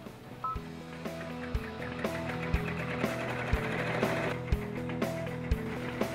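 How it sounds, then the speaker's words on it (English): A commercial embroidery machine stitches a cap held in a cap frame at 900 stitches per minute, giving a steady mechanical whir with layered tonal hums and regular thumping beats roughly once a second, close and continuous with no talking. "As you can see, I've got the machine running at 900 stitches per minute"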